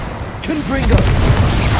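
A Confringo spell blast in Hogwarts Legacy, a loud booming burst with a sustained roaring rumble, close and dense, with a voice shouting the spell name over it.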